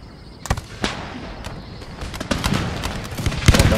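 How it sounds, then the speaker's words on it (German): Musket volleys crack out in a battle in the strategy game Empire: Total War, with scattered sharp shots at first that thicken into a denser rattle of gunfire. "Fallen schon die ersten Schüsse."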